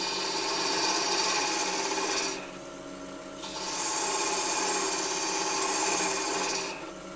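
A skew chisel peels wood from a spinning workpiece on a lathe, giving a steady rasping hiss over the motor hum, with a brief lull midway before the cut resumes.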